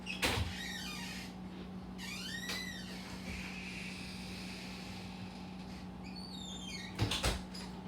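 A house door opened to let a cat outside: a thud, then creaky sliding squeaks from the hinge, and another knock and bump near the end, all over a low indoor hum.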